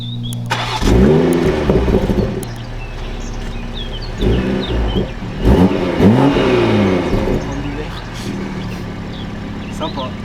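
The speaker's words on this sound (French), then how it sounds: "Donc là, démarrage standard." A 2019 BMW M340i xDrive G20 with a 374 hp engine starts in standard mode: a loud starter catch and rev flare, a settling idle, then two more rising blips, with people talking nearby.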